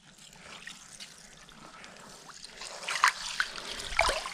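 A 39¾-inch lake trout kicks and splashes in water while being released during ice fishing on Clearwater Lake, giving trickling, dribbling water sounds that build into sharper splashes toward the end, close and moderately loud with no talking.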